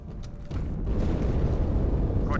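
In the Halo: Reach mission Cairo Station, an explosion erupts about half a second in, a sudden booming onset that settles into a loud sustained rumble lasting to the end.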